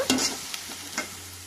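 A pan of chicken curry frying, with a steady close sizzle and a few sharp stirring scrapes and clinks against the pan, no voices.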